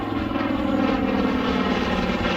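A WWII-era propeller airplane flying over an airshow crowd at Wings Over Columbus, giving a loud, steady, throbbing engine drone that holds close and constant throughout.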